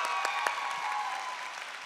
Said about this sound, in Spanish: Fuerte aplauso para Alex Fernández,